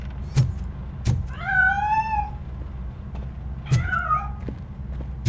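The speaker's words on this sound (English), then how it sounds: "That cat must be hiding inside." A cat meows in the video game Robocop: Rogue City, giving two drawn-out, wavering cries spaced a couple of seconds apart. Sharp clicks and a low background hum sit underneath, with no talking.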